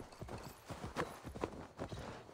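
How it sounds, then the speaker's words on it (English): Horse hooves clip-clop in a steady walking rhythm in Assassin's Creed Valhalla, a run of distinct moderate hoofbeats over quiet game ambience. "Let us grab the horsey"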